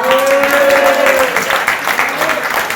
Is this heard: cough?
no